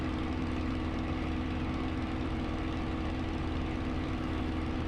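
A Spitfire's piston engine drones steadily in flight in Microsoft Flight Simulator near Duxford, a constant close-up low rumble with no breaks and no voices.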